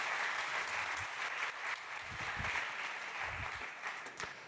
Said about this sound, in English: One more time, a big round of applause.